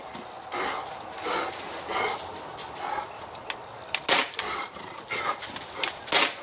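An excited dog, heard during BB pistol shooting with a Crosman C11, panting and scuffling nearby in quick irregular bursts, with a couple of sharp snapping clicks standing out.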